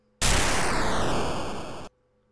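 A single short lightning crash sound effect from the video game Sonic 3 and Knuckles, a loud burst of harsh noise with a falling sweep, cutting off abruptly after under two seconds.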